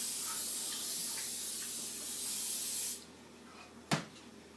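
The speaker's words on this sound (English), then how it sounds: "And you spray it down very well so that the Rice Krispies won't stick." Cooking spray hisses onto a pan for making Rice Krispies treats: one long close spray for about three seconds, then a short sharp burst.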